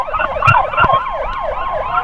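An ambulance siren wails in steady rising and falling sweeps during an escort on a busy one-way road, loud and close, with traffic noise underneath and brief horn-like bursts.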